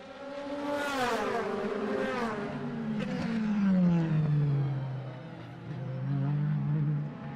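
DTM race cars scream past at the Oschersleben circuit: one high engine note rises and then falls in pitch as it passes close by, while further cars whine in the background and a faint commentator voice can be heard under them.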